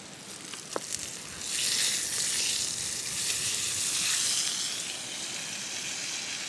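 Bacon sizzles and fries in a pan over a campfire at a 1920s-style fall camp, a steady close crackling hiss that swells louder after a brief moment and carries on with no talking.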